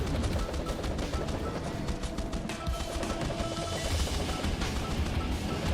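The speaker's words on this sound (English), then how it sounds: "50 explosions in under 3 seconds" Rapid-fire explosions and gunfire in a video game crackle in a dense, continuous barrage of sharp bursts, dozens packed within seconds at steady loudness.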